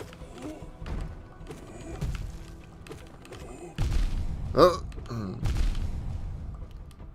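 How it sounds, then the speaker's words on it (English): Heavy booming impacts from a two-mask damage attack in the video game Hollow Knight land as a few deep thuds among busy combat effects and clatter, the strongest hit standing out in the middle. "sound that 2 mask damage attacks make, that booming sound, is really satisfying"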